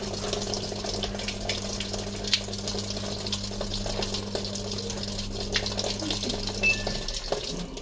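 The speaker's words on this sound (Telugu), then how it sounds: "వాటర్ అయితే వస్తుంది." Water gushing into the drum of a Samsung top-load washing machine during a home repair, a steady close-up rush with a low mechanical hum that cuts off near the end.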